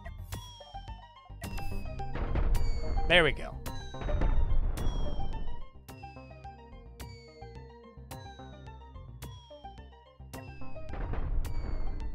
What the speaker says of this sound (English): Because I feel like the explosion sound should be way louder.